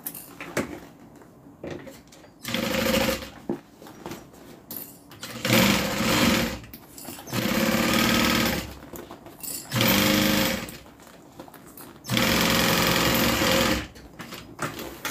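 A sewing machine running Mara 70 thread stitches a fabric bag made from the Leilani pattern, whirring in several steady bursts of a few seconds each, separated by short pauses, with no talking.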